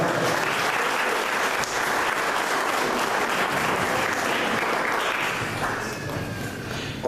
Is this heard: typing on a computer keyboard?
no